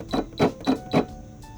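An embroidery machine stitches four quick, evenly spaced beats, close and clear, then stops.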